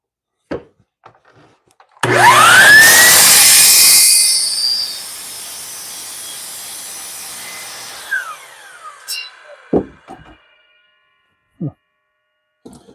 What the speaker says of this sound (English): I'll just sand it.